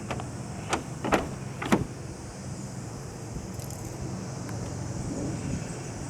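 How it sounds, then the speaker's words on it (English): A few quick mechanical clunks of a 2014 Hyundai Veloster door lock actuating, three short bursts in close succession, then steady low background hum. "And to unlock the car, just press the black button again."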